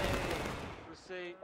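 A musket volley fired on command in the Civil War game War of Rights at Antietam, a loud crackling burst of many shots fading out, followed by distant scattered fire and a brief voice.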